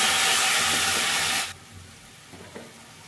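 Large tomatoes dropped into a pan of cauliflower give a loud, dense sizzle that cuts off sharply halfway, leaving a faint quiet simmer with a couple of soft stirring clicks.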